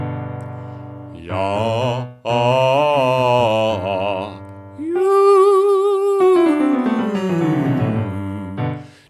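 A singer works through a vocal exercise that crosses the passaggio, sustaining pitches that step and slide from low to high and then glide back down, with clear pauses between phrases.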